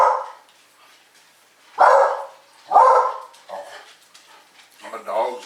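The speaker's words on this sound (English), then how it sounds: "my dog's barking at the dogs outside." A dog barks at other dogs outside, a few loud separate woofs at about two and three seconds with softer yips in between, followed by a later burst, close to the microphone.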